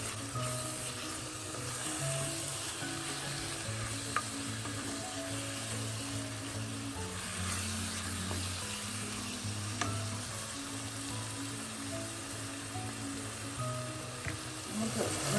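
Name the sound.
spices being mixed and fried in oil for chicken biryani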